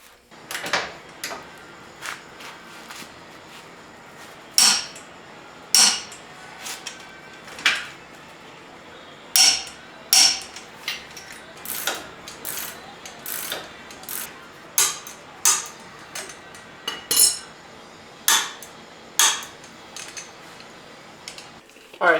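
A ratchet wrench tightens big 1 7/8 inch nuts on the lower control arms of a Jeep LJ during a rear lift install, giving a long series of sharp metallic clicks in uneven bursts, close by over quiet background.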